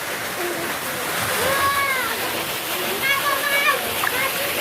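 Continuous rush of a waterfall with low summer flow, a broad steady roar with people talking and calling out over it.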